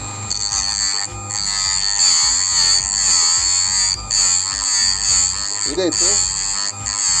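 A Parkside electric sharpener for knives and drill bits runs with a high, steady whine and buzzing hum, while a voice speaks over it now and then.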